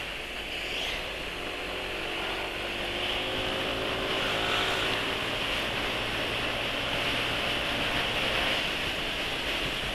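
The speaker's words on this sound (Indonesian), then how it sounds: "suara mesin jadi halus setelah 60-65 km per jam" Motorcycle engine with variable valve actuation (VVA) running at speed, a steady loud drone with road and wind rush throughout, no talking.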